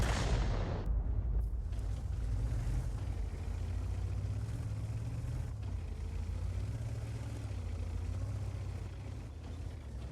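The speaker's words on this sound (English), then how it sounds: "Angelina's very good at relocating after she fires to ensure that she doesn't get counter-batteried" Self-propelled artillery gun firing in World of Tanks: a sharp, loud blast opens the clip, then a steady low engine rumble and battle noise carry on to the end.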